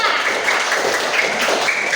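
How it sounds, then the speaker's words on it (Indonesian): A classroom group claps for the second group after its presentation, a steady patter of many hands at moderate loudness for a couple of seconds. "tepuk tangan untuk kelompok 2"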